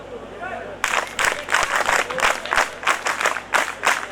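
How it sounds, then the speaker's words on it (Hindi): NCC cadets clapping loudly in unison at a blood donation camp, a sudden burst after a brief quiet hum, then firm rhythmic claps that rise and fall in waves. "तालियां बजे तो जोरदार वाली बजे"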